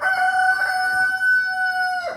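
A rooster crows loudly and close by, one long drawn-out call with no other sounds around it.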